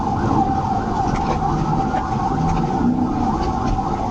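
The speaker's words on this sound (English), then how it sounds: "officers activated their lights and sirens in an attempt to initiate a traffic stop" A loud police car siren wails close by, its tone rising and falling steadily over the rumble of a vehicle engine.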